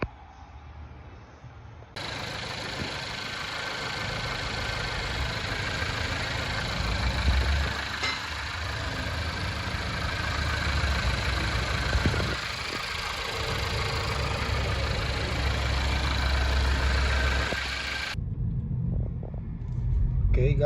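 A VW GTI engine runs steadily during a road test after clutch repair, a loud low rumble that swells and eases as the car moves through gears, heard alone at close range from inside the car.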